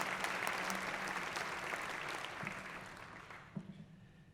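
Applause from a commencement audience at a winter graduation ceremony, a steady wash of clapping hands that fades toward the end, heard at a distance.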